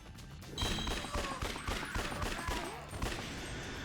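Rifle gunfire in the video game Yakuza Dead Souls, a dense run of sharp, loud shots fired in quick irregular bursts over a constant background din, starting about half a second in and continuing throughout.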